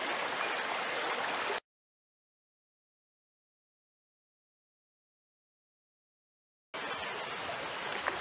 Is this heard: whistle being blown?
no